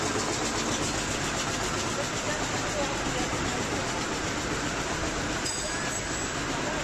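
A CNC machine for making disposable wooden spoons runs with a dense, steady mechanical roar and rattle, close and unbroken throughout.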